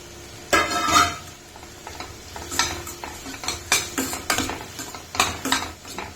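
Okra sizzles in hot oil while being stirred in a pan, with repeated sharp scraping and clattering strokes of a spoon in an uneven rhythm over a continuous frying hiss.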